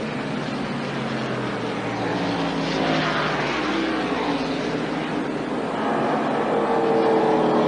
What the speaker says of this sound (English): Here comes Alan Kowicki off the 4th corner, and Alan finishes 2nd, but he is limping across the line